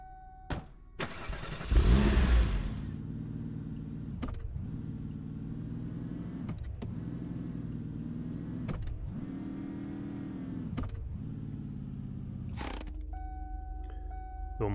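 A car engine idles and revs in the Invasion 2037 video game, a steady mid-pitched drone that rises and falls in several surges, with clicks and a sharper mechanical sound near the end.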